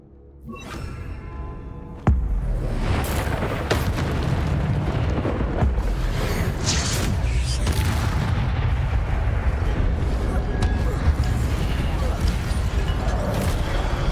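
In the video game Hogwarts Legacy, an Incendio fire spell goes off with a sudden heavy boom, followed by a dense, sustained roaring rumble of flames and combat effects.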